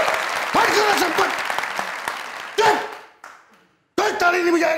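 Studio audience at a comedy talk show clapping in a lively burst that fades into near silence, then starts again abruptly, with voices over the applause.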